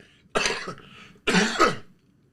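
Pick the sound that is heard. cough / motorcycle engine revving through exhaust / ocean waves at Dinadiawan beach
cough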